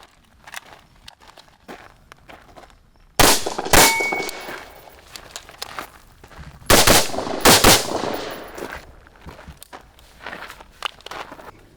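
Rifle gunfire at a shooting range target, several loud, sharp cracks with metallic clangs from steel targets and shuffling footsteps in between.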